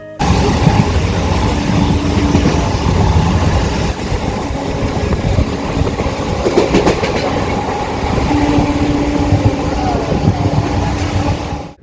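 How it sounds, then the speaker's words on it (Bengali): A train rumbles loudly and continuously along the rails, with rhythmic clatter of wheels over track joints and a steady roar throughout. "তারপর আমরা ট্রেনে উঠে পড়লাম"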